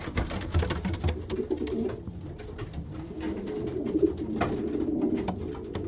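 Pigeons coo repeatedly, a soft low rolling burble from several birds close by, with faint rustling and other bird sounds around them.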